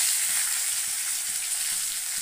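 Steady hiss and crackle of large fish pieces frying in hot oil, close and continuous with no voices.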